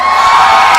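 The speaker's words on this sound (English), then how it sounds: "And finally, round of applause, who liked Jason's?" A short, loud burst of guests cheering and whooping at a wedding reception game, a close crowd of excited voices lasting under a second.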